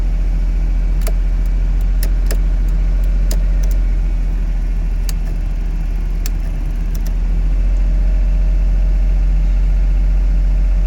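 A Honda Beat's engine idles to warm up, a loud, steady low drone up close, with a few sharp metallic clicks or key jingles in the first seconds and no talking.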